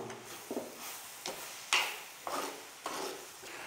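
Slit green chilies stirred in a pan for a Kerala-style crab roast, with a light sizzle under a series of scraping spoon strokes and utensil knocks at a steady rhythm, close and moderately loud, with no talking.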